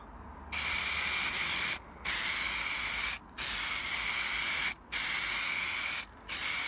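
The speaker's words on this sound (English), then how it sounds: "let's get a coat of primer on" A spray can lays a primer coat onto bicycle parts in long, loud hissing bursts, each lasting one to two seconds and separated by short gaps, with no talking.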